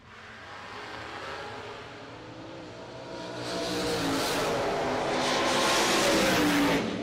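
Camaro and Oldsmobile drag race cars launching and running down the strip, engines roaring from moderate distance and swelling louder and brighter in the second half as they accelerate away.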